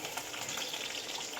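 Garlic dropped into hot oil in a home kitchen pan while making paneer masala curry, a soft steady sizzle and crackle, faint and close, with no talking.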